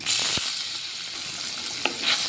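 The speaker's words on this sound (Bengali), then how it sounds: "পনিরটাকে আমি হালকা করে ভেজে নিব" Salted paneer pieces frying in hot oil for a vegetable dal meal, a continuous close sizzle with a few soft taps and clicks from the pan, no talking.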